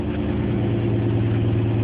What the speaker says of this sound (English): you can go to your exhaust and you can hear the amplified sound of your exhaust through the tube